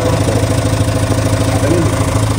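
A new motorbike's engine idles close by in a steady, continuous low rumble with an even pulse, with no speech over it.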